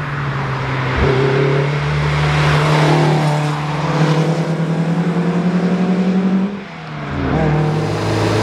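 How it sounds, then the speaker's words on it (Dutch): A Lotus 340R sports car engine drones loudly from inside the cabin while driving, rising and falling in pitch with throttle changes, a brief dip in revs around a gear shift, then revving again. "als je eventjes een keertje gas geeft, het is echt een kabaal waar je je echt niet meer verstaanbaar kunt maken"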